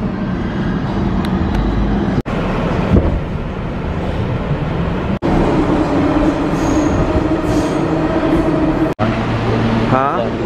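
A subway train rolls along with a loud, steady rumble and rattling carriage noise, broken by a few brief dips, with wheel squeal and faint voices inside the car.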